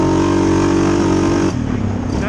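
A 2020 Suzuki KingQuad 750 ATV engine runs hard with a loud, close, steady drone that drops in pitch and eases slightly toward the end.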